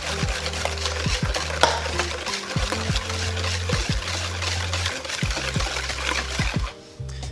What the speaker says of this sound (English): So I'm just stirring, so we are just bringing, like I said, the eggs back up to a hot temperature.